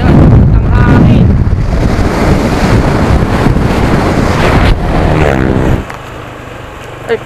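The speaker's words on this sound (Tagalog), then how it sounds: "Yan, ang hangin." Strong wind buffets the microphone outdoors at a farmhouse hotel in Nueva Ecija, a loud, continuous rushing roar that drops away near the end as a voice briefly talks.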